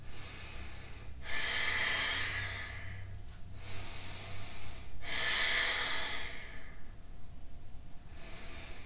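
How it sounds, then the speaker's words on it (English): Slow, deep breathing held in a pose during an intermediate vinyasa yoga flow: close, airy inhales and exhales, about three full breaths, with no talking. "Staying there for 3 more deep breaths."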